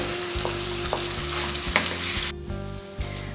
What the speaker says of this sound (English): You will keep frying it until it is golden brown.